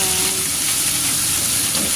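Spare ribs sizzle in hot oil in a wok for a Chinese-style dish, a loud, steady, dense frying hiss filling the whole moment with no break.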